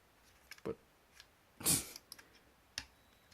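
A Logitech G900 Chaos Spectrum gaming mouse clicks several times at irregular intervals, sharp, close, quiet ticks over near silence, one slightly louder burst in the middle.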